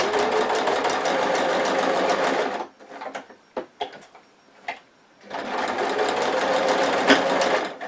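A sewing machine fitted with a walking foot stitches around a mug rug in two loud, steady runs. Between them comes a pause with scattered clicks and knocks as the fabric is turned.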